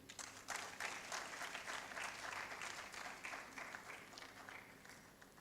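An audience at a book launch in Ghana breaks into a big round of applause, many hands clapping in a full, even wash that holds for several seconds and then slowly tapers off, heard from some distance.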